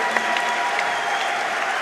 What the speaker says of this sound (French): Allez, je compte sur vous pour applaudir